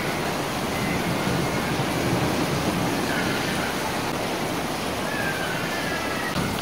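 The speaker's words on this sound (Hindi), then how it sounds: "बहुत ही काफ़ी अच्छी बारिश हो रही है।" Steady, dense hiss of rain falling outdoors, constant and enveloping with no voices or breaks.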